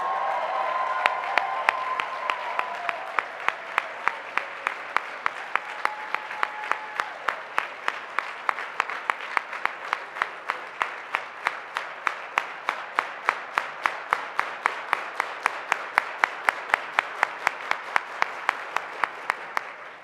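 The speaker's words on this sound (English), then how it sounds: "give a round of applause to the hotel staff here at the Bonaventure" An awards-show audience at the Bonaventure hotel applauds the hotel staff, starting as a crowd ovation and settling into steady rhythmic unison clapping that keeps an even beat for the whole stretch.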